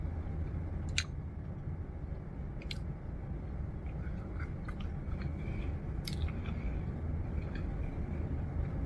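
Close, quiet chewing of butter paneer masala during a mukbang, a soft steady wet mastication with a few faint clicks of teeth or cutlery, no talking.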